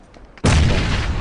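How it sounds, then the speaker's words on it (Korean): In PUBG, a grenade explodes as a single sudden loud boom after a brief quiet moment. Its heavy rumble fills the rest of the short clip. "내가 수류탄 한번 넣어보고 올게"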